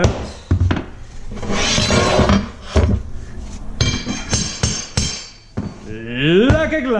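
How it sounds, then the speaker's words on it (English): Hammer striking a metal pull bar while laminate flooring is fitted, several sharp loud clanks and knocks among scraping and handling noise, close by, ending in a ringing metallic tone. "Unfortunately, I have to strike it with the metal part now. It's gonna be noisy."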